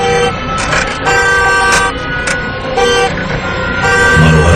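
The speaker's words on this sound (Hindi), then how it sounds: "उस कार का हॉर्न ऐसे बजा जैसे कोई अंदर बैठकर बजा रहा हो" Car horn honking repeatedly in short and sustained blasts, loud and close, with traffic noise behind it.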